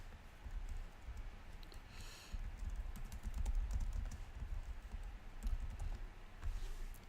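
Computer keyboard typing while a lecture title is entered, a quick run of soft, close key clicks in uneven bursts over a low room hum, with no voices.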